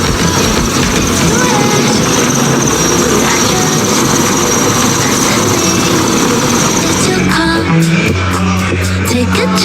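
A loud, steady engine roar like a helicopter overhead fills the whole stretch, with a rhythmic chopping pattern emerging near the end.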